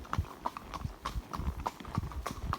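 Horse hooves clip-clop on a hard road in Ireland in a steady walking rhythm, close by and moderately loud.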